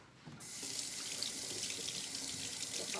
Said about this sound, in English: let me just rinse my hands off really quickly